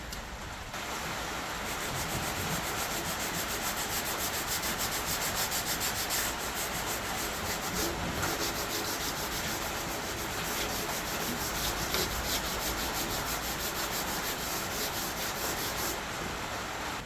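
Steady rubbing of 150-grit sandpaper along the edges of a carbon fiber piece for a car trunk, a close, continuous scratchy hiss with no talk.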